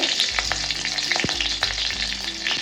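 Green chilies dropped into hot oil in a pan for kadhi, a loud steady frying crackle and sizzle close up, with a few small pops and a soft clink partway through, and no voices.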